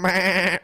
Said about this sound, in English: That's a goat, lady.